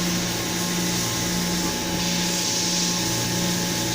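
Vacuum pump of a YK-118-50 vacuum freeze dryer running with a steady, even machine whir and low hum, holding constant throughout with no voices.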